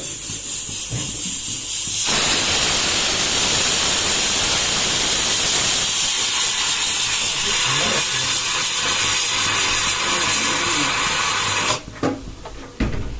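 A pressure cooker whistle lets out a loud, steady jet of steam during dinner cooking in a home kitchen. The hiss runs almost without a break for about ten seconds and then cuts off abruptly, with no talking.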